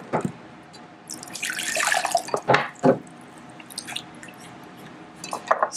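Water poured into a bottle holding a little baking soda, heard as a close, splashy trickle that swells in the middle and then breaks into separate drips and splashes.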